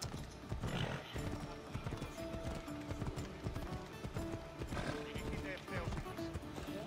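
Galloping horse hooves clip-clop in a continuous rapid rhythm during a horse race in Assassin's Creed Odyssey, alongside a neigh, with background game music and people talking over it.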